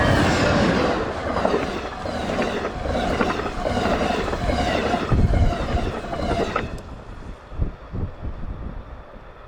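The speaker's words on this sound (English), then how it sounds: "Still plenty enough to cover the landscape and get kicked up by high-speed Amtrak trains" A high-speed Amtrak train rushes past through a snow-covered landscape, a loud close roar with rhythmic clattering of cars that cuts off abruptly near the end, leaving fainter rumbling and wind.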